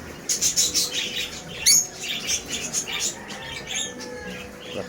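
Caged birds in an aviary chirp and tweet in quick, overlapping bursts at moderate loudness, with a few sharper squawks among them and a soft, steady background hum.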